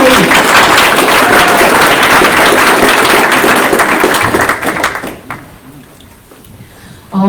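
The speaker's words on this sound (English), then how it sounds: "can I hear a round of applause for these gentlemen and ladies?" Audience at a county primary election forum applauds with dense, loud clapping for about five seconds, then it dies away into quiet room tone.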